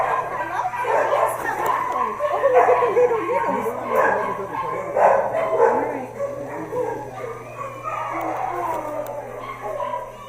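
Many puppies at the Kayenta Animal Rescue Shelter bark, yip and whimper all at once in a dense, overlapping chorus that fills the room. A steady hum runs underneath.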